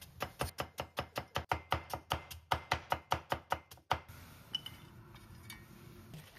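A knife cuts carrot slices into thin strips on a cutting board: a quick, steady run of about twenty close chops, then a few scattered lighter taps as the cutting stops.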